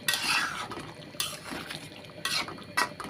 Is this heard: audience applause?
no